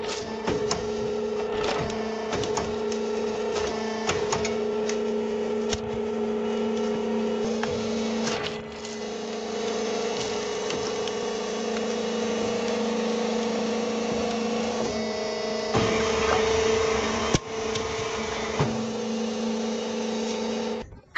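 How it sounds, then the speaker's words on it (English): A factory motor copper extractor pulling copper windings out of a 7.5 kW electric motor, giving a loud continuous mechanical drone with a steady hum and intermittent clanks and scraping throughout. "We use our factory's motor copper extractor to remove the copper wires."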